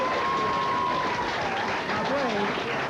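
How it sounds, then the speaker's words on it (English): Studio audience applause on a 1983 television talk show, a steady wash of clapping throughout with a voice talking over it. "give my nice round of applause out there"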